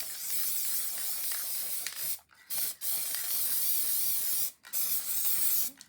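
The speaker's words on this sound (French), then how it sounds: "La Home Glue Spray. Et donc, hop." Home Glue Spray adhesive aerosol from Action hissing out close by in several sustained bursts, separated by brief pauses, with no talking over it.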